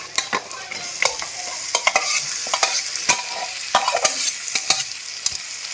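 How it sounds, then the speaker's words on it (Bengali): Marinated meat frying in a pan with golden brown onions for Bengali chicken kasha, giving a steady close sizzle broken by frequent sharp scraping stirs, with no talk. "এবার মেখে রাখা মাংসটাকে আমি দিয়ে দেবো"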